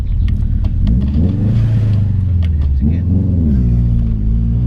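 A modified 500 bhp Subaru Forester on the move, its engine rumbling loud and close with rising and falling revs as it accelerates through the gears, voices talking over it.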